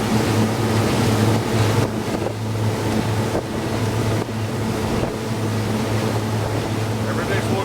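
A 2002 Sea Ray 320 Sundancer motor yacht cruising against an incoming tide, its engines giving a loud, steady low drone with water rush and wind buffeting throughout.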